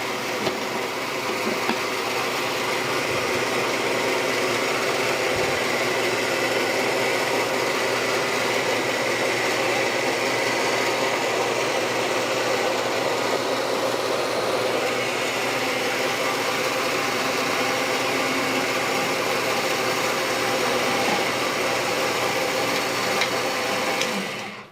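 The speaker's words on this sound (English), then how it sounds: "that winch over there is doing all the work for me" A winch draws metal wire down through a drawplate for making pins and fibulae, a steady continuous motorized hum running loud and unbroken throughout with only slight variation.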